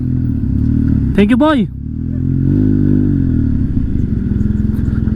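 Motorcycle engines idle and rumble steadily up close in France, with a brief rev, while someone speaks a few words over the noise.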